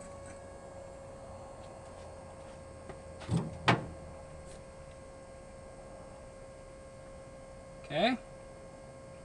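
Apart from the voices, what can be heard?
electric fuel pump running on a 1950 Ford F1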